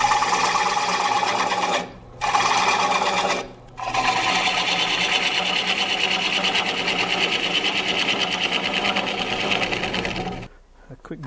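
An off-grid woodturning lathe hollows a wooden piece to depth, with a steady rasping, whirring cut interrupted by two short pauses, then fading as the tool is withdrawn.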